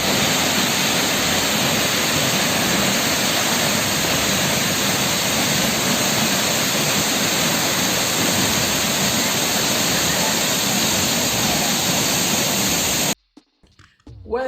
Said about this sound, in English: here I give you the sound of the waterfall